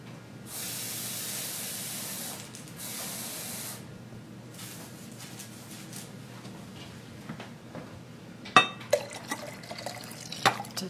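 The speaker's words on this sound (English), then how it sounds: "I'm going to get an additional 8 ounces of cold water." Cold water pours into a pitcher of iced tea as a steady spraying, hissing stream for several seconds. It then tapers off into scattered drips and light clinks.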